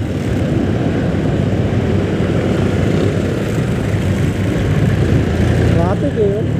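Steady engine drone of road traffic, heard by a rider on a Honda Click 125 scooter, a loud continuous rumble throughout with people talking over it.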